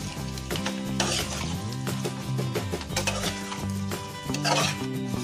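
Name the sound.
stirring spicy baby potatoes in a pan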